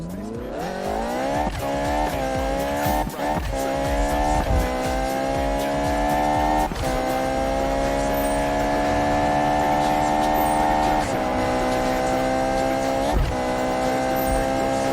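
Ferrari engine in the 2015 Need for Speed racing game, a loud sustained rising whine of revs climbing steadily through gear shifts with brief dips, close and continuous for the whole stretch.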